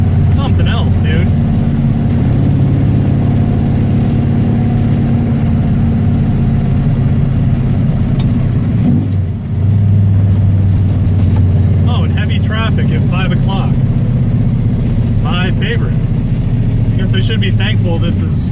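A Ford 302 V8 fed by a lawn mower carburetor drones steadily while driving, a low, constant engine hum with wind noise, dipping briefly mid-way before settling back, as someone talks over it.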